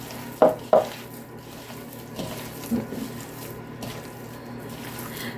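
Ground turkey and breadcrumbs being mixed by hand in a bowl, with two sharp wet slaps near the start, then soft, quiet squishing and scraping.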